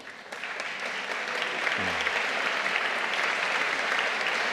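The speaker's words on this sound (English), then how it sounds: "asking them to stand or simply wave to receive a round of applause" Applause fills the room at an architecture awards ceremony, a broad continuous patter of many hands clapping that rises quickly and stays steady to the end, with a faint low voice briefly beneath it.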